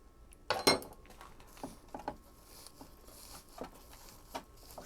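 A spoon clinks and scrapes against a pot while repotting a catalpa tree, with a few sharp metallic taps and soft scraping sounds spread over a quiet background.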